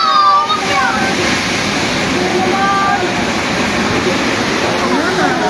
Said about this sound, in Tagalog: Yan na naman yung tubig.